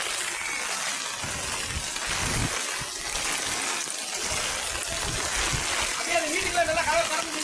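Floodwater flows around a house in a steady, rushing wash with splashing, heard close and fairly quiet, while a person talks over it.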